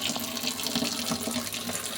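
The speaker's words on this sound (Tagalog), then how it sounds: "Lalagyan ko ng tubig ito" Water pours steadily from a tap into a bucket in a house in Israel, making a continuous close splashing rush with no pauses and no talking.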